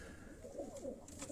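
Pigeons belonging to a pigeon fancier in Havelian, Hazara cooing in a low, soft, wavering murmur that repeats through a short stretch, with no talk over it.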